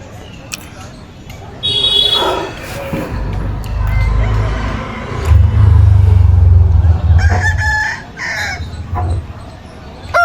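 Chickens at a rural market in Kharagpur crow and cluck loudly nearby, with a rooster's call standing out, amid background chatter from people.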